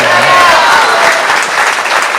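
Loud, dense applause from a gathered audience at a religious discourse during Chaturmasya observances, sustained and even throughout, with a faint voice briefly audible at the start.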